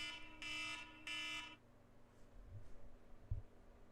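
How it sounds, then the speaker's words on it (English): An electronic alarm buzzer sounds as a sound effect, two loud harsh buzzes in quick succession, then quiet low rumble with a couple of soft thumps. "that was the alarm that I said too much and I have to go"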